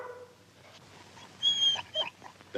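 Shep, a dog being left behind, lets out a few soft, high whimpers and short whines that come near the end, faint and close against quiet background room tone.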